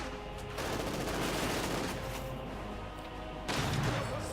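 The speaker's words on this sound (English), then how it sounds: "Bit of machine gun fire there." Sustained rattling machine gun fire and battle noise in the Company of Heroes 2 real-time strategy game, dense continuous bursts over a noisy backdrop with no talk.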